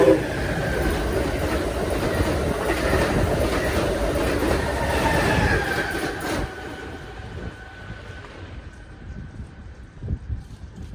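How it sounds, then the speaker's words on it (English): An Amtrak Acela Express races northbound through Metro Park station in New Jersey on the Northeast Corridor, its loud rushing roar and rail clatter close by, then fading as the train passes and the sound thins out. "quickly speeding northbound up the Northeast Corridor for its next scheduled stop at Metro Park is Amtrak Acela Express train number 2166"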